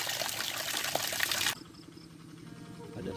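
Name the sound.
water flowing from a spout at a bathing place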